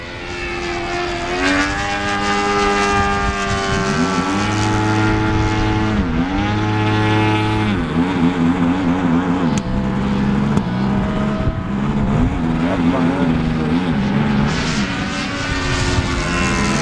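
Engine of an Extra 300 58-inch RC airplane running rough, a loud continuous propeller drone that shifts pitch up and down with uneven, sputtering throttle changes throughout, close and alone.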